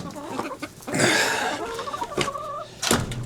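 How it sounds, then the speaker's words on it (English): Backyard chickens cluck and squawk in short bursts near the microphone, a louder flurry early on and another sharp call near the end, with no talk. "Move it, chicken."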